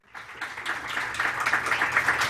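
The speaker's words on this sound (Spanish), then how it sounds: "Un aplauso, se vale." Applause from a symposium audience on government information access, a steady dense patter of clapping that swells slightly and holds for a couple of seconds, moderately loud and without talk.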